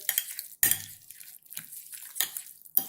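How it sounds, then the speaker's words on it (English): A spoon works through a thick brown sugar mixture in a bowl, making irregular scraping and clinking strokes at close range with short pauses between them, and no one talks. "Now we're going to stir all this together"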